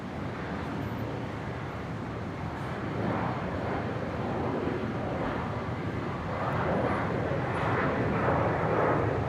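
A QantasLink airliner taking off from runway 01 right at Brisbane International Airport, a steady distant jet roar that slowly swells louder over the span, heard alone.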